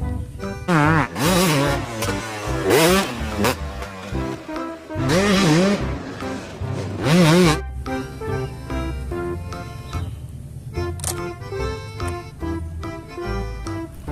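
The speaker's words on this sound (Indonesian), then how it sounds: "ada motor cross." A motocross motorcycle engine revving in repeated rising and falling bursts, loud and close, with a busy mechanical background between the revs.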